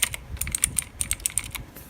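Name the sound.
mechanical keyboard switches being typed on, aluminum board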